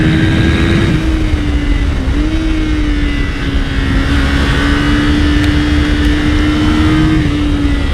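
A 2025 Kawasaki Ninja 500 SE with its 451cc engine is ridden in third gear, giving a loud, steady engine drone that holds a near-constant pitch with slight dips, mixed with continuous wind rush and no talking.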